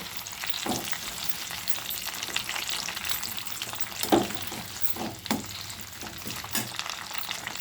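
Tomato chutney with mint leaves sizzles steadily in a pan, with a spoon scraping and stirring in irregular clicks over the constant frying hiss.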